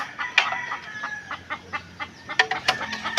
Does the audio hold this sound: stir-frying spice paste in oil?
no